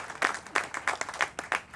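An audience applauds at a speech by Florida Governor Charlie Crist, a brief burst of scattered hand claps from a modest crowd, fairly close and uneven, with no voices over it.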